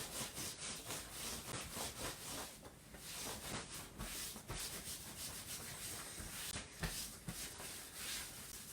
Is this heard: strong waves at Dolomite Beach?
no